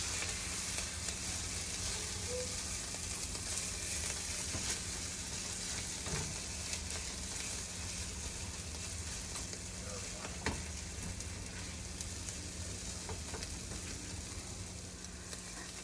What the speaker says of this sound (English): we're going to periodically mix our onions until they get nice and brown